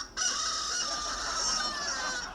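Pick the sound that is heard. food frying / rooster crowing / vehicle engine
rooster crowing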